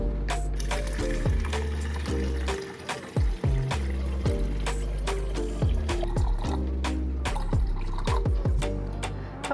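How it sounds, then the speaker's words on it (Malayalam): Water is poured into a Prestige 1.5 L electric kettle, a steady filling gurgle that rises in pitch as the vessel fills, close and alone, with brief pauses and splashes partway through. "നമുക്കിതിലേക്ക് വെള്ളം ഒഴിച്ചു കൊടുക്കാം."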